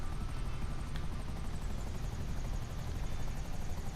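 Steady rhythmic chop of an Akula stealth attack helicopter's rotor blades in GTA 5 Online, with a droning engine whine, continuous and fairly quiet, no voices.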